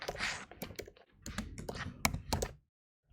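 Rapid typing on a computer keyboard in bursts of crisp, close key clicks with a few louder keystrokes, stopping abruptly into silence near the end.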